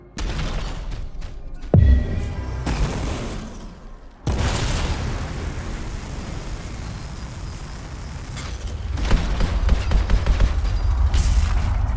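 Heavy video-game gunfire in Anthem, with sustained rattling bursts and booming impacts while shooting at wildlife, loud and dense throughout with a brief lull near the start.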